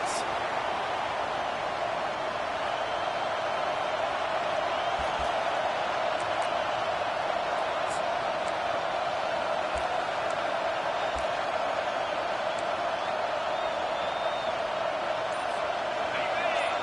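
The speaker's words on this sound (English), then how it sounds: "Listen to this crowd just shaking the girders of this place, trying to help their defense." Football stadium crowd roaring steadily during a defensive play, a dense, loud and sustained wall of noise throughout with no pauses.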